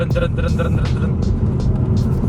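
A BMW 135i's N54 engine and road noise rumble steadily from inside the cabin while a person talks over it.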